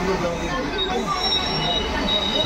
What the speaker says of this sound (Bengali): আমার গোপাল সোনাও ট্রেনে বসে আছে।